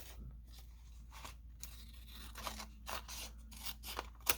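Paper being trimmed for a scrapbook pocket, with a series of soft, close snips and crisp cutting strokes coming in irregular bursts, growing sharper toward the end over a low steady hum.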